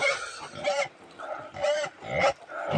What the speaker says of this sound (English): My pigs are also very hungry. They are making a lot of noise